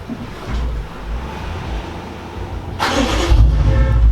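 A BMW 750i with its muffler deleted cranks and fires up, the exhaust catching with a loud burst near the end and settling into a deep, rumbling idle after steady background noise.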